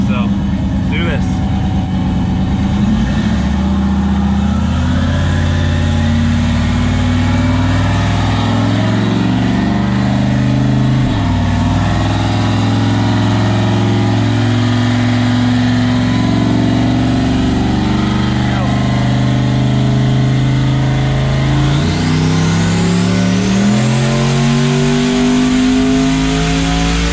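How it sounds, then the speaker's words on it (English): Boosted race car engine running on 30 psi of boost after tuning, idling with a steady low drone and rising into revs, loud and close throughout with a voice speaking over it. "I'm gonna add some idle back to it. Not real happy on the startup."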